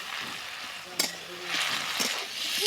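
Egg frying with brain and spices in a hot pan, a steady sizzle broken by a few sharp clinks of a utensil against the metal.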